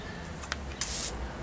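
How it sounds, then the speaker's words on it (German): A paint sprayer fires a short hissing burst at a wall on a backyard grill hut build, with faint earlier puffs and a low background hum around it. "Und jetzt fange ich erstmal sprühen an."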